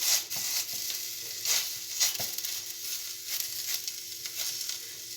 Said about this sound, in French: La poêle elle est suffisamment chaude, on va prendre donc les hamburgers délicatement.